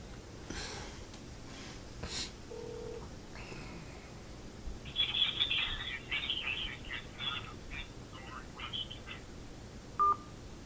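Telephone keypad tones beep through a call to the Social Security Office, with a few short separate tones followed by a quick run of dialed digits. An automated line is faint in the background, and a brief beep comes near the end.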